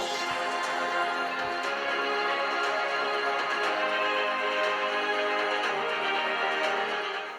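A 2023 Razer Blade 16 gaming laptop plays music through its built-in speakers at 80% volume, a loud, dense, unbroken stream that fades slightly at the very end.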